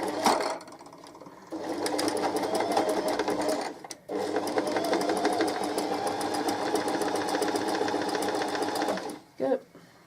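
A sewing machine runs fast and steady, stitching a cushion cover up close, with a short pause near the start, a brief stop midway, and quiet handling noise at the end.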